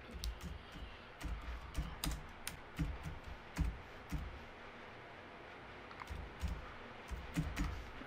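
Quiet, close typing on a computer keyboard, irregular bursts of clicky keystrokes with brief pauses, no voices over it.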